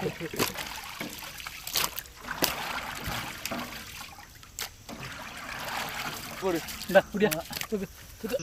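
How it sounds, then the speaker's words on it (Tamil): Water trickles and splashes as it is drained off food while cooking, with uneven pouring and dripping throughout and people talking over it. "தண்ணி வடிச்சிடுறோமே நல்லா எல்லாம் கீழே போடு"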